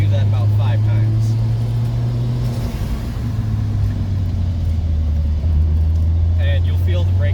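A 1995 Nissan Skyline GTS-T engine hums steadily from the cabin as the car slows from speed in repeated progressive stops to bed in its brakes, with someone talking over the drone throughout.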